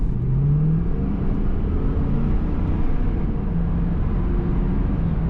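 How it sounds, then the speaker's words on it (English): A 2002 Pontiac Trans Am Collectors Edition with an automatic transmission accelerates on the road, its engine giving a steady, loud, low drone with faint rising tonal whines and no talk. "And it gets up and goes and kicks down that automatic transmission like it should."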